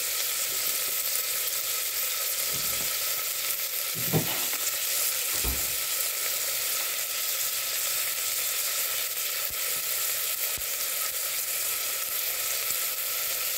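Green chillies frying in oil in a pan for a meal maker curry, producing a steady close sizzle throughout with a couple of brief stirring scrapes and thuds.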